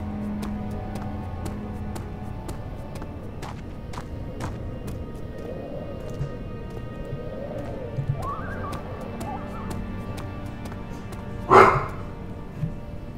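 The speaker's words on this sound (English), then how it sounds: "Sorry about my dog barking, kind of breaking the mood." A pet dog barks once, loud and sharp, over quiet, eerie game ambience with soft tonal drones, then gives a fainter follow-up yelp.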